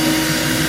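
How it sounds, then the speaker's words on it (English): A power drill with a small bit boring a tiny hole through a plastic Xbox One controller charging dock, a steady loud whirring drone heard close up and alone for under a second. "I'll drill a tiny little hole with this small drill bit through"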